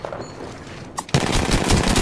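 Rapid automatic gunfire in the Apex Legends battle-royale game, a dense burst of shots that starts abruptly after a quiet moment and a single sharper crack, then continues loud and close to the end.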